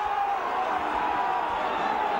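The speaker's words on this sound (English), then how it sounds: "The crowd really getting into this game now as Warrington on the attack" A rugby league crowd at a Warrington versus Wigan match, a loud, steady roar of many voices with no break.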